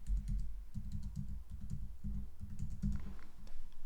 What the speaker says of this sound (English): simply type your password